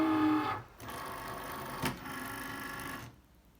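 A Cricut cutting machine draws in its cutting mat with a short motorized whir and a small click partway through, close and moderately loud, before falling quiet.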